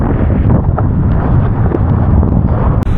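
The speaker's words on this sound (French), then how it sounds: "Donc là, il y a du vent." Strong coastal wind buffets the microphone during a kitesurfing ride along the Basque cliffs between Bidart and Socoa, a continuous low, rumbling roar with no voices.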